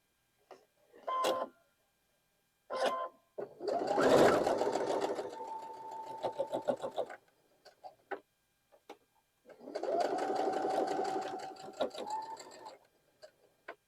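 A sewing machine stitches quilt block seams in several bursts, short taps at first, then longer whirring runs with pauses between them, close and clear with no talking.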